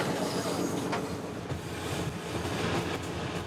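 A train rolls along a railway in Congo, and a steady, dense roar of wheels and carriage fills the air, with faint rhythmic clacks and occasional squeals heard from inside the driver's cabin.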